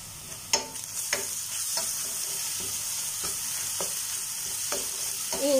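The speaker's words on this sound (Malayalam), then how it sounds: "ഇനി ഇതിലേക്ക് ഞാൻ ഇഞ്ചിയും വെളുത്തുള്ളിയും ചതച്ചത് ചേർത്ത് കൊടുക്കാൻ പോവുകയാണ്." Crushed ginger and garlic hit hot oil with onions in a pan for a spicy fish-head curry, a steady bright sizzle punctuated by regular clacks and scrapes of a spoon stirring, close and without speech.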